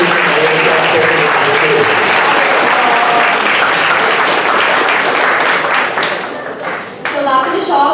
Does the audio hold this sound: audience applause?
yes